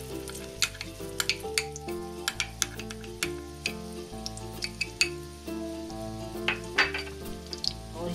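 Moong dal roasts in hot ghee over medium heat, a soft sizzle running beneath repeated clinks and scrapes of a spoon stirring against the pan, with steady rhythmic tapping throughout.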